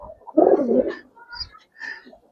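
Giribaz pigeons coo in a low, rolling burst up close, followed by softer, intermittent calls and faint chirps, with a trace of background noise.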